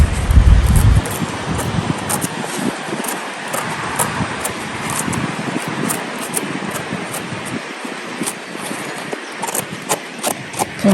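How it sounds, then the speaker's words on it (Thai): Strong wind gusting through a forest while mushrooms are being gathered, a steady broadband rush with leaves rustling and a few louder gusts, fairly close and continuous, with no talking. "ลมแรงมากอะวันนี้"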